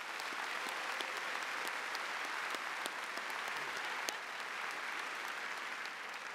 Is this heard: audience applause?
yes